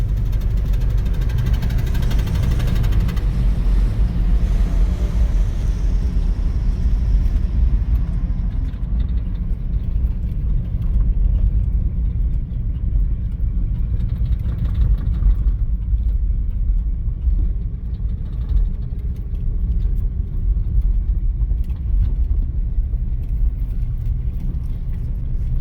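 A 1964 Dodge sedan on old bias-ply slicks drives along, its engine giving a steady, loud low rumble with constant road noise throughout and no voices.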